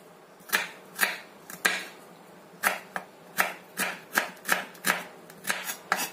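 A knife chops vegetables on a cutting board in a steady series of sharp, close knocks, about a dozen strokes with short pauses, no talking.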